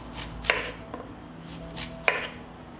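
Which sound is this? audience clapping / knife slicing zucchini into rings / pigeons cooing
knife slicing zucchini into rings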